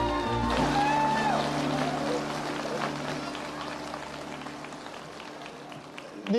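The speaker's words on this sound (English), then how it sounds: "These guys have to clap." Audience applause fills a Linux World conference hall, a steady wash of clapping that starts loud under sustained music tones and gradually thins out over several seconds.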